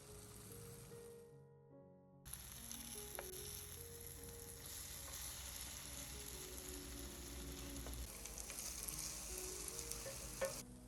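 A pan sizzles steadily as pancake batter fries in butter, with a few faint clinks and scrapes of a spatula, no voices.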